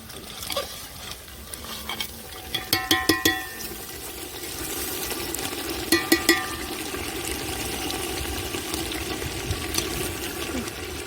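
Prawns dropped into hot masala oil set off a steady, wet frying crackle, with a few sharp louder bursts early on and again midway, settling into a continuous sizzle; no one speaks.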